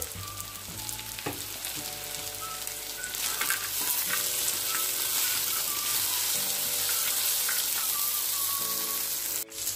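Onions, tomatoes and fried nuts sautéing for a vegetable biryani, a continuous loud sizzle and frying hiss with intermittent stirring clatter, ending in a sharp knock.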